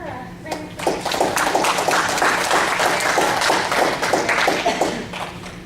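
Audience applause for a workshop presenter at an essay and research paper writing workshop, a steady burst of many hands clapping that rises quickly and holds loud for several seconds.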